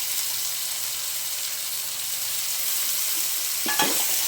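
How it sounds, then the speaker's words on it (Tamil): Onion and tomato sauté in a pan for potato masala, a close, steady sizzle and hiss running throughout, broken near the end by a brief scrape of stirring, with no talking. "இப்போ வதக்கிக்கலாங்க."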